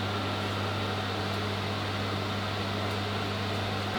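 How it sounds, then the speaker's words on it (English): Microwave oven warming a pizza slice gives a steady, even electrical hum and fan whir that holds unchanged throughout. "I think my safest option is probably the microwave. So I'm gonna put it in the microwave"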